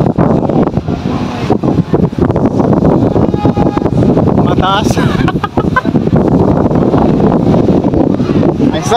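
Strong wind at Vintar Dam in Ilocos Norte buffeting the microphone in loud, gusty rumbles, with people talking nearby over the roar.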